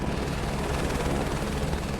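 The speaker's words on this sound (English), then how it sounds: "Without crashing my helicopter, if possible." A helicopter in Microsoft Flight Simulator 2024 flying over Paris, a loud steady rotor and engine drone with a fast chopping pulse, constant and close throughout.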